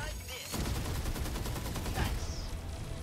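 Rapid repeated gunfire from a mecha battle in 13 Sentinels: Aegis Rim, a dense fusillade of shots starting abruptly and continuing steadily, loud and close, with a whooshing sweep partway through.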